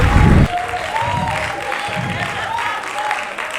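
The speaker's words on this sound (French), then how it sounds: "on applaudit très fort pour elle" A gala audience at a Miss Rondes et Jolies pageant in Gabon applauds the association's president, dense clapping and crowd noise filling the whole short stretch at close, loud level, with a voice briefly audible over it.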